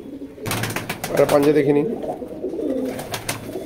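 Deshi Kalo Jiria pigeons in a loft coo in a couple of low, throaty bursts, close by, while someone talks over them.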